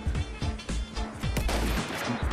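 Gunfire in the World War I shooter Battlefield 1, including a sniper rifle shot, sounds as a series of loud, close booming shots at uneven intervals amid continuous battle noise.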